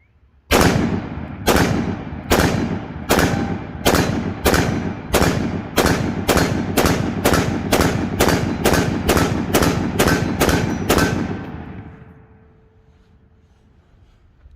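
Ruger SFAR rifle fired in a rapid, evenly paced string of about seventeen loud, sharp gunshots, each cracking close and hard, before the firing stops and a quiet ringing tail fades out.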